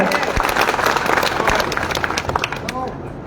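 Crowd applause rolls through a political rally as a former local legislator is introduced, a dense burst of clapping that fades slightly, mixed with a loud voice over a PA.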